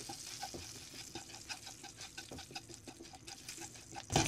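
Samosa filling seasoned with pomegranate seeds, red chili, salt and chaat masala frying in a pan, a quiet sizzle punctuated by frequent light stirring clicks and scrapes, close and fairly soft.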